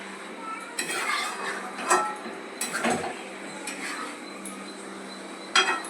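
Chicken cooked village style is stirred in a pot, with a spoon clinking and scraping against the metal in a few irregular bursts over a quiet background.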